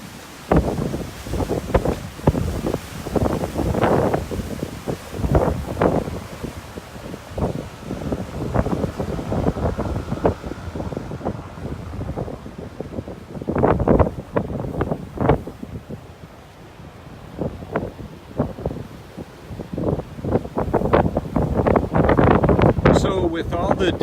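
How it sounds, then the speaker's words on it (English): Gusty outdoor wind buffets the microphone in loud, rumbling bursts that rise and fall for the whole stretch, with a person talking intermittently under it. "I think that you'll probably hear a lot more of the wind"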